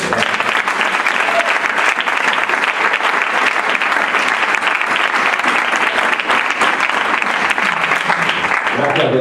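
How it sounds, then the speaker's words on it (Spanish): An audience at an international coaching conference in Spain gives a continuous, dense round of applause, loud and close, sustained for the whole stretch with no voices standing out. "¿les podría dar un aplauso?"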